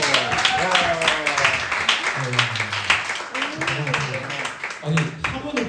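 A high school church youth group claps for guests called forward during a Sunday worship service, a short burst of applause mixed with voices and chatter close by.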